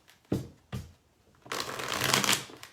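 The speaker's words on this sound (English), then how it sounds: "One more shuffle." A couple of soft taps of tarot cards being squared, then a quick riffling shuffle that rattles for about a second, close and crisp.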